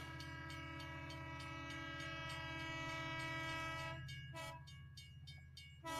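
Train sound effect with a passing train and repeated horn blasts, a steady rumbling drone with sustained horn tones, then a shift to sharper rhythmic clatter near the end; fairly loud, no talking.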